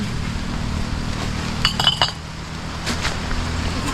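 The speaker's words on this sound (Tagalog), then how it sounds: "Ayan mga bote yan Yan basag na siya." Broken glass bottles in a garbage heap clink and rattle together in a short, bright cluster of sharp knocks, close by over a steady outdoor hiss.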